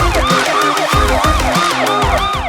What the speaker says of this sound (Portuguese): Sirenes, carros em alta velocidade.